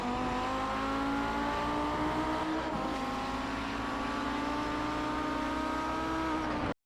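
An Audi 90 GTO race car on track at Laguna Seca, engine loud and close, with a steady high-revving drone that holds a sustained pitch and shifts slightly midway before cutting off abruptly at the end.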